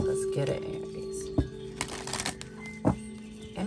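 A deck of tarot cards shuffled by hand up close, with riffling and papery snaps in bursts and sharper slaps now and then, over a steady background hum.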